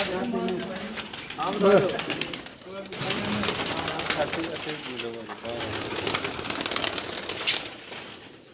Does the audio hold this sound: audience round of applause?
no